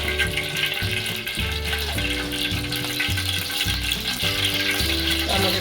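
Oil sizzling and crackling in a pan for a Maharashtrian ghevda bhaji, a steady close fry hiss with low rhythmic hum underneath throughout.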